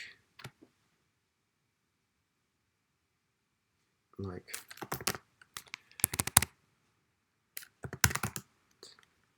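Bursts of keyboard typing, crisp clicky keystrokes in quick clusters separated by short silences, close and fairly quiet.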